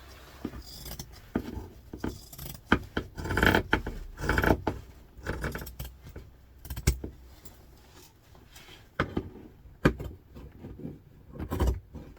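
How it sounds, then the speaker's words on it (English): Scissors trimming the fabric seam allowance on a vintage-style doctor's bag handbag, irregular close snips and rustles of material with small handling knocks, no talking. "Right, so I'm going to now cut the seam allowance down."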